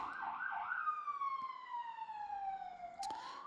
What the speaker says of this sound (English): sirens and more sirens